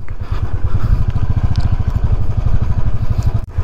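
A motorcycle rides an off-road mountain road in West Sikkim, its engine chugging loud and close with a steady, rapid pulsing throb and light rattling throughout.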